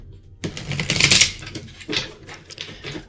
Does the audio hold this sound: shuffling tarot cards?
yes